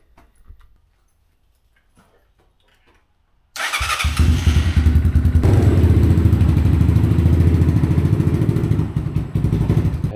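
A 2021 SSR 189 Chinese motorcycle starts up after a quiet pause, catching abruptly and then idling loudly and steadily with a rough, pulsing engine note close by.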